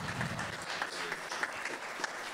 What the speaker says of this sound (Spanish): Hugo Dante Ortiz, otro aplauso.